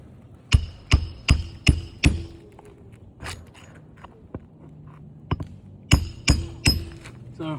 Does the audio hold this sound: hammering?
yes